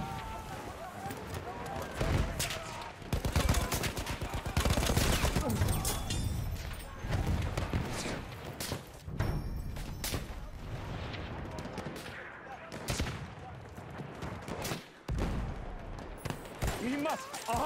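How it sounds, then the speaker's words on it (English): Machine gun fire in a video game with an M1917 Browning, sounding as repeated loud bursts and rattling volleys across a busy battle mix, with shouted game voices and a player talking over it. "Düşman makinalı tüfeği!"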